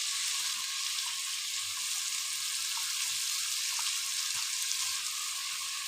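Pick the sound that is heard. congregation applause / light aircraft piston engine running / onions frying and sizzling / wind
onions frying and sizzling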